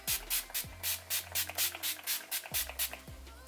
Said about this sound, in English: I'm gonna use my Urban Decay All Nighter Setting Spray